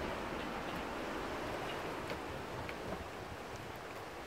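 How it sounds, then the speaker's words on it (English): Wind blowing outdoors, a steady broadband rush with no pauses that stays at an even moderate level throughout, with no voices. "Wind."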